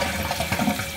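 Water rushing into a toilet tank as it refills after a flush, a steady close hiss and gurgle of running water with no talking.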